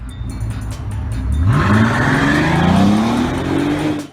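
A Bentley Continental GT with a 6-liter W12 engine revs hard nearby, its deep roar climbing steadily in pitch before easing off at the end.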